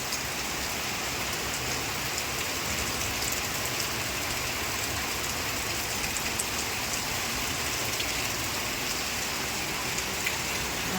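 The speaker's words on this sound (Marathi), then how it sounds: "बघा, चांगलाच जोरात आला पाऊस आणि आला म्हणजे असा येतो की पाणीच करून जातो." Heavy rain pours steadily onto a terrace and surrounding surfaces, a dense, even hiss with no letup and no voices.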